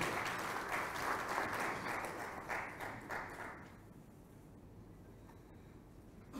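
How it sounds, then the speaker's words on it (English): Applause from an audience at an inauguration and planning meeting, a broad wash of clapping that holds steady for about three and a half seconds and then thins and fades to quiet. "Please, let's give him a round of applause again."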